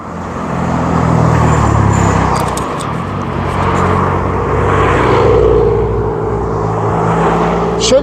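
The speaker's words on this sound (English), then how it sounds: "certainly plenty of traffic about" Road traffic rolling past on a hilly route toward Sedgley, a loud continuous roar of nearby cars with passing swells and a few brief knocks.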